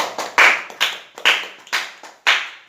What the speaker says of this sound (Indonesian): Tepuk tangan semua untuk kelompok 2